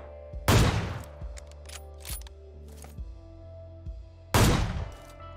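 Gunfire in the PUBG Lite PC battle royale game: two loud sharp bursts of shots several seconds apart, with fainter single pops and clicks between them and no talking.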